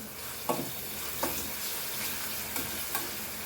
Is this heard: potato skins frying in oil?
yes